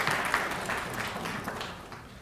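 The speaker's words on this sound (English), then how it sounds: "So round of applause." An audience applauds at an annual recognition ceremony honoring Inroads students, steady clapping from a crowd heard at moderate distance, soft and continuous for a couple of seconds.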